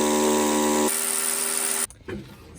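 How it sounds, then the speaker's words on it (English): A hammer drill bores anchor-bolt holes into rebar-laced concrete, a loud steady high-pitched whine and rattle that shifts pitch partway through, then cuts off abruptly with a brief softer burst after. "he wants to start drilling in with the hammer drill"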